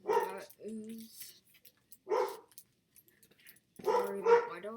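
A pet dog barks a few times in a room where paper crafts are being made, the short barks loud and near, mixed in with a person's talk.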